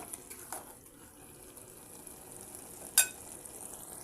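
Brinjal and dried fish curry being stirred in a pan, a quiet scrape-and-sizzle with soft wet movement and a couple of brief sharper clinks of a spoon against the metal.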